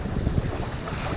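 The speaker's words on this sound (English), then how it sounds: "It was a long day of sailing from Gloucester Island" A sailboat under way in wind on open sea, with a brief steady rush of wind and water noise buffeting the microphone.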